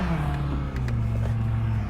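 Motorcycle-powered Honda S600 car engine running nearby, a steady low rumble with slight rises in pitch and a brief dip, heard alone.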